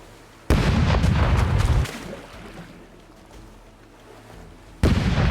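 A deep, rumbling volley of ship cannon blasts in the video game Rogue Waters lasting over a second, then a quieter lull before another heavy boom bursts in at the end.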